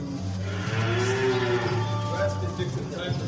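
Dairy cows on a farm moo: a low, drawn-out moo rises over steady background noise, with other cattle faintly audible and a voice speaking softly in the mix.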